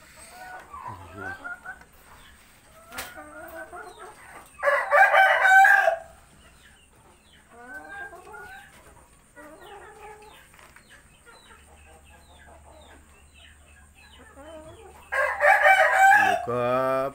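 An Indian Aseel parrot-beak rooster crows loudly and close, twice, with a long gap between the calls. Someone talks quietly under the bird throughout.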